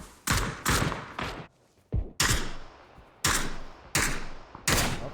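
Sharp gunshots crack in a video game match, Poland versus Ukraine, in about seven loud separate bursts, each trailing a short echoing tail, with brief quiet gaps between.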